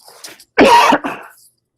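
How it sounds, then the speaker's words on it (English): A single person coughs: a faint throat sound first, then one loud, harsh cough followed by a softer second burst, close and alone in a quiet room. "Coughing into my elbow on that one."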